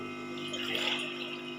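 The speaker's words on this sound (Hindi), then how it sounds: "तो अब हम इसके अंदर पानी शामिल करेंगे।" A glass of water is poured into a pot of cooking black chickpea curry, a short soft splashing gush that sits fairly quiet with no talk.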